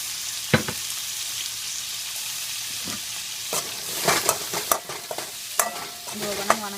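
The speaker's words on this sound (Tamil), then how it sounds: "இப்போது தக்காளி சின்ன சின்னதாக கட் பண்ணி போட்டுக்கலாம்." Chopped tomatoes fry in a pan for horsegram rasam, a soft sizzle under sharp scraping and clacking strokes of a spoon stirring, growing busier toward the end.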